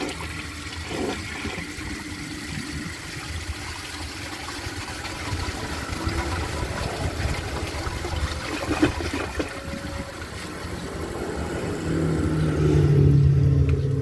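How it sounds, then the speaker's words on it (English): A 1990 American Standard Cadet toilet flushes in a steady rushing surge of water over dirt and sand, close by, swelling louder and gurgling near the end with no talk. "Now let's give it a flush and see how it does on dirt"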